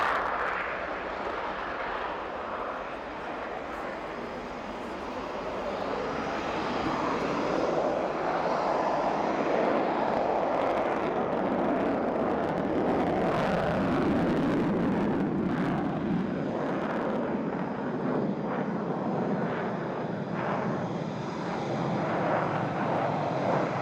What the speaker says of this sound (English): The Sukhoi Su-27,